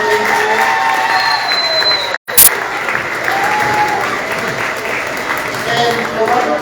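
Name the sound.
round of applause at school award ceremony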